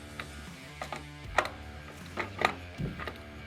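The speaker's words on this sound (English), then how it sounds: "you're going to turn the nut and keep this stationary to press this all the way onto the shaft" A wrench turning a nut to press a power steering pump pulley onto its shaft on an LS engine: quiet metallic clicks and ratcheting ticks in small irregular groups, close by, with no talk.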